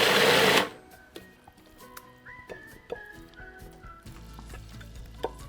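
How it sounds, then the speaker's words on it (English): A blender or food processor purees a vegan meatball mixture in a loud, dense motor roar lasting about half a second, then stops abruptly, leaving quiet kitchen clicks and small knocks. "And then we're gonna puree this all together."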